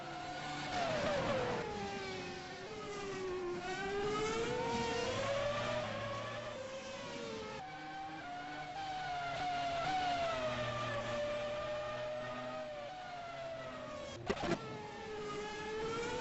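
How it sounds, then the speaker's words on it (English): Racing video game with race cars taking high-speed turns on the Korean Grand Prix circuit at Yeongam, engines revving and shifting pitch continuously, rising and falling through the corners, with a brief sharp clack near the end. "watching here bring it through turn 7 and 8, and these midnight cars have been fantastic through here all race long"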